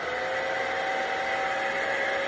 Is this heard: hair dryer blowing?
yes